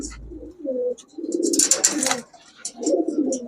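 Four bright red-eyed giribaj high-flyer pigeons coo in soft, rolling bursts at close range, with brief pauses between calls and no talking.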